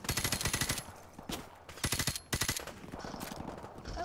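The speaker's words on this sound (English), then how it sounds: "I'm just like shooting people." Rapid automatic gunfire from the Call of Duty 4 Remastered campaign, sounding in repeated loud bursts with short pauses between them and steady battle noise underneath.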